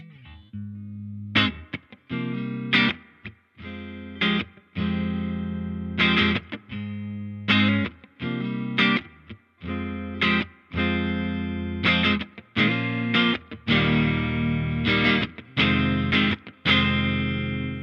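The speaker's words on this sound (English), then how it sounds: "Cool, sounds pretty good with single coils as well." An electric guitar on its neck single-coil pickup plays through a Laney Lionheart Foundry Super 60 amp, with distinct, loud strummed chords and short picked phrases separated by brief pauses, played alone.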